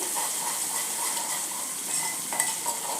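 Asafoetida roasts in hot oil in a pan for a gram flour dish, with a continuous soft sizzle and light stirring and scraping sounds close by.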